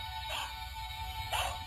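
A toy dog backpack clip gives two short electronic barks about a second apart, close and clear over a steady low hum, with no talking.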